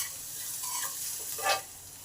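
Garlic, ginger and chopped green chillies frying on low to medium heat in a pan, a steady soft sizzle with light stirring scrapes and a brief louder stir near the end, no voices.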